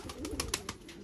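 Low cooing from a pair of high-flyer pigeons kept in a home loft rolls on nearby, broken by several sharp clicks or flutters spaced through the second.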